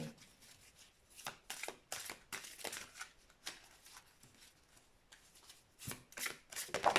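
Tarot cards riffled and shuffled by hand in a series of crisp, close flurries with short pauses between, no speech.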